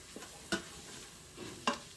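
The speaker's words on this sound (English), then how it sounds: "In go the spices to bloom in the hot oil." Spices dropped into hot oil in an Instant Pot give a faint sizzle with two sharp clinks or scrapes of a spoon against the pot, quiet overall and without speech.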